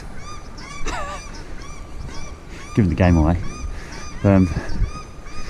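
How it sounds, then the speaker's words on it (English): Loud harsh honking calls from paradise shelducks in two bursts, repeated a few times, with someone speaking briefly between them. "paradise ducks, eh?"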